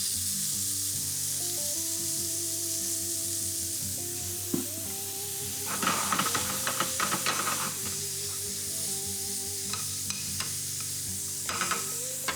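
Achiote pork sizzles steadily in a pan after lemon juice goes in, with a continuous frying hiss and scattered louder crackles and stirring clatter bursts midway and near the end, no talking.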